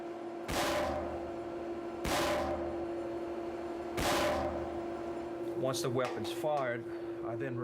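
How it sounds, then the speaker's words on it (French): Three loud, booming gunshots fired into a 3,000-litre water tank at steady intervals, each ringing out over a constant hum, followed by a clatter of metallic rattling. "On tire un coup de feu dans un réservoir d'eau de 3000 litres."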